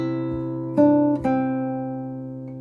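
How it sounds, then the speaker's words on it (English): A trill on classical guitar, begun on the upper note: a few plucked nylon-string notes ring out clearly and alone, with fresh attacks sounding over a sustained, decaying chord. "Here's a trill starting on the upper note."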